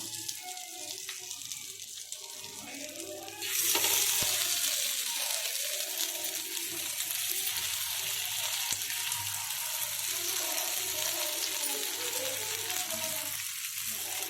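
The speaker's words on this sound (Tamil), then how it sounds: "இப்போ நம்ம சூப்பரான நம்ம மசாலா தடவி வச்சுருக்க மீனை வறுத்துக்கலாம்" Masala-coated vanjaram fish hits a hot pan, and a quiet background suddenly bursts into a loud, steady, hissing sizzle that keeps going without a break.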